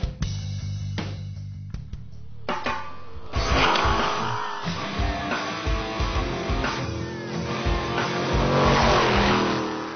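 A Pro Buggy off-road race car, a Southern Cross Mark V frame with a 6-litre Chev engine, revs loudly nearby: a few quiet knocks at first, then a sustained, rising engine roar with repeated throttle surges, alone with no talk.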